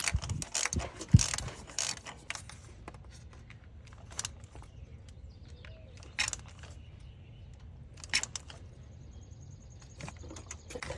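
Honda Pilot spark plug being threaded in by hand, faint scattered ratchety clicks and small metallic taps in a quiet space, close and soft, with no voices.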